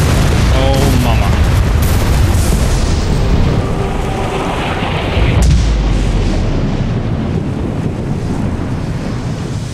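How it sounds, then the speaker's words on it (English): An explosion in the video game The Saboteur makes a loud, roaring, low rumble that fills the whole stretch, with a sharp blast hitting near the middle and heavy debris noise rolling on afterward. "Now that's an explosion."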